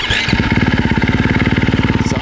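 A motorcycle on a hill-climb run revs hard and close, its engine throbbing in a fast, even pulse that holds steady and loud throughout.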